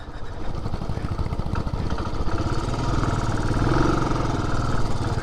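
A Benelli TRK motorcycle on an off-road hill ride gives a close, rumbling engine sound with a fast pulsing beat that stays steady and fairly loud throughout.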